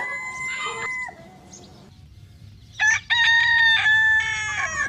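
A rooster crows twice, the first call fainter and the second louder and closer, over a quiet outdoor background with no talking.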